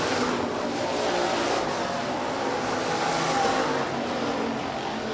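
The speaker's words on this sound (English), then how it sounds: "Chad Koiker driving the big bore racing machine here tonight with the number 88 taped on the side" Sportsman, hobby stock and B-mod race cars roar around Rapid Speedway's dirt track in a heat race, a steady loud wash of engine noise from the pack with no clear breaks.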